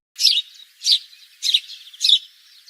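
A sparrow gives four bright, short chirps at an even pace, close and clear, with nothing else audible.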